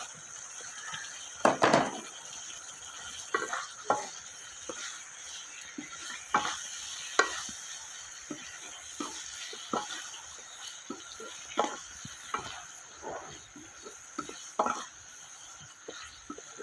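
Potatoes being stirred into fried spice masala in a pan give scattered scrapes and clinks of a spoon against the vessel. A faint sizzle runs under them, and the strokes are irregular and close.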